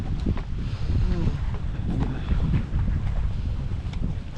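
Wind blows across a wooden boat being covered with fiberglass mat, rumbling steadily against the microphone with irregular gusts, while voices speak faintly underneath.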